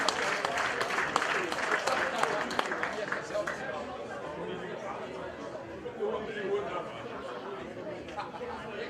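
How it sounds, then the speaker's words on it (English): Audience applause for a third-place racer at a national championship podium, brisk clapping strongest in the first few seconds then fading into crowd chatter and murmuring. "give her a big applause"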